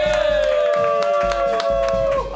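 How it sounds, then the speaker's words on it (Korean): A studio audience on a Korean variety game show breaks into applause with cheers and whoops, a dense burst of clapping close by. A bright sustained musical tone runs underneath. "박수 한번 주세요."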